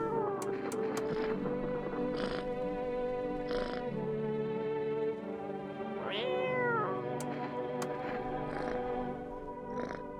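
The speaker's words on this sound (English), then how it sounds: "Ah, the kitty's getting happy about it." A cat in the video game No I'm not a Human gives several meows, including a long rising and falling one midway, over a low background hum, with no talking.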